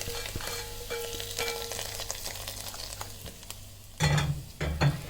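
Steady sizzling of garlic frying in hot oil in a pan, with a couple of louder bursts of crackle near the end.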